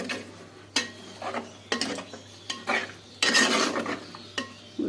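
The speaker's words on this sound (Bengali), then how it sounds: "মিশিয়ে ফেলবো ভালো করে, নেড়ে চেড়ে" Curry being stirred and mixed in a pan with a spoon, a quick run of scraping, clinking strokes against the metal, some louder than others, with no talking.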